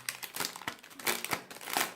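A card handled inside a transparent plastic sleeve gives a quick run of soft, close crinkling and rustling over about two seconds.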